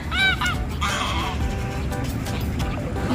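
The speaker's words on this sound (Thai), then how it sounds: "เห็นเป็ดมายืนชุมนุมกันอยู่ เต็มเลยค่ะ" Ducks gathered by still water honk loudly and repeatedly at close range, a few nasal calls overlapping with outdoor background noise.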